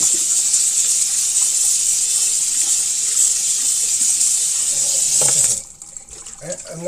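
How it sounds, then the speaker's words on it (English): Hot water runs steadily from a tap into a pan for bread making, a constant close hiss and splash that cuts off abruptly near the end, leaving faint clinks. "I'm gonna saturate it with hot water until I'm satisfied that it's full of hot water"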